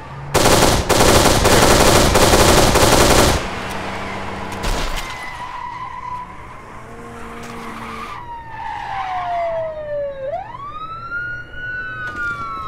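Kane and Lynch 2: Dog Days gameplay erupts with loud machine-gun fire and screeching tyres, then a police siren wails up and sweeps in as the shooting fades.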